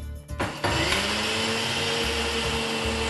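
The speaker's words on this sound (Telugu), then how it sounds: "ఇప్పుడు దీన్ని మిక్సీ వేసుకుందామండి" After a brief start-up, an electric mixer grinder grinds soaked roasted rice rava for jackfruit idlis with a loud, steady motor whine and a coarse churning rattle, without speech.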